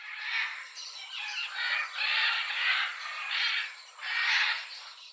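Macaws in the Amazon rainforest give harsh squawking calls in a series of bursts, repeating steadily at moderate distance for several seconds.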